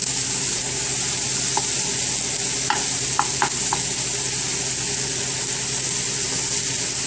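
Ground beef with peas and carrots frying in a pan after more butter goes in, a steady close sizzle with a few light utensil taps and scrapes over a faint low hum.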